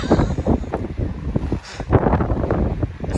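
Strong, cold wind buffets the microphone outdoors at altitude, with uneven gusty rumbling bursts rising and falling in quick succession, close and loud.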